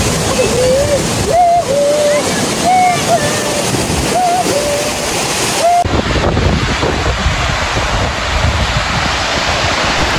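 Skjervsfossen waterfall in Norway gives a loud, steady rush of falling water mixed with wind buffeting, and a voice speaks briefly over the roar at the start.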